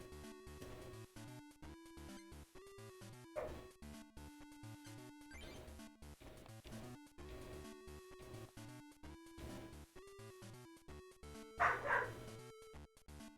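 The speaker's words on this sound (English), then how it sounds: "The dog is making noise." A dog in the room yips and barks repeatedly, faint and intermittent, over steady looping chiptune game music.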